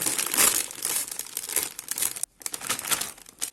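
Bag of potato chips torn open and handled, crisp crinkling and crackling of the plastic packet in short bursts, close up, with a brief pause partway through.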